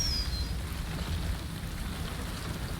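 Steady rain falls in the video game Death Stranding, a constant hiss of dense drops with a low rumble underneath, even and unbroken throughout.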